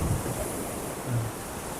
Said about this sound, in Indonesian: Ombak udah mulai besar, udah semakin besar